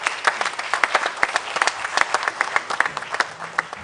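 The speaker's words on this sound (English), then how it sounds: "Can we give them a round of applause?" A symposium audience applauds, a moderate patter of many hands clapping in an irregular, steady rhythm for a few seconds.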